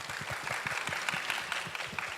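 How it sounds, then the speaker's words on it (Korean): Applause from an audience for a presenter, a Korean researcher who has just finished a talk at a career event, sustained clapping throughout with no voices on top. "다시 한번 큰 박수 부탁드리겠습니다."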